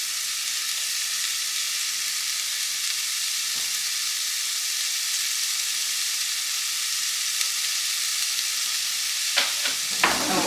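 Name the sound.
softened vegetables with tomato puree sizzling in pan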